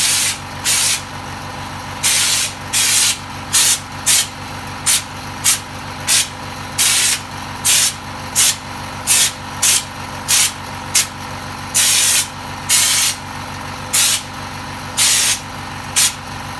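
Spray gun laying Raptor coating onto the wheel flares of a 200 series Land Cruiser, firing in short repeated hissing bursts with brief pauses between them over a steady low hum.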